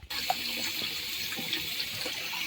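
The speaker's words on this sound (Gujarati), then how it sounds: "ગરમ ગરમ પાણી ચાલુ છે." Hot water runs steadily from a tap into a sink, a constant close hiss and splash with no voices.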